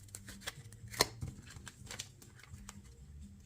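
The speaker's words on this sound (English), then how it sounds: "maybe you shuffle like this" Tarot card deck being shuffled by hand, a quiet series of soft riffling patters and taps with one sharper snap, close and low in level with no talking.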